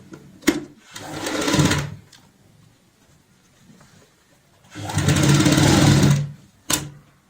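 A sewing machine stitches piping onto a cushion cover in two separate runs, each a close, steady motor whir lasting one to two seconds, with brief clicks and quiet pauses between.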